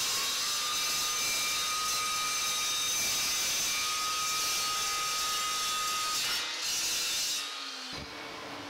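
Crescent band saw motor humming steadily after switch-on, a loud sustained whine with a high tone that winds down toward the end; a brief voice is heard.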